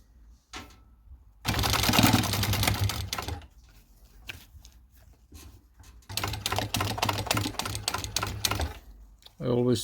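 A sewing machine stitches a utility pouch in two long runs of rapid, steady mechanical chatter, with quiet pauses between where the fabric is adjusted; the machine is close and fairly loud.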